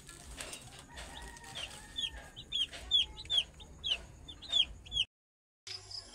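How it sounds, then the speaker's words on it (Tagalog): Chickens cluck softly while young chicks, three days old, give a run of high, rapid peeping calls at close range, about a dozen in quick succession before a brief silence. "Ito yung aking sisiw. Pang third day nila."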